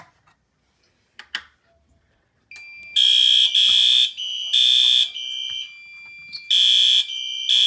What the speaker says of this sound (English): let's activate the smoke detector first